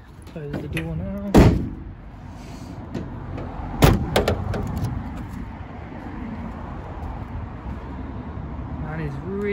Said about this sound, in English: Close the door now.